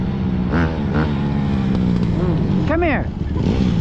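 A vehicle engine held at steady high revs, droning continuously with a few rising and falling pitch swoops, while someone talks over it.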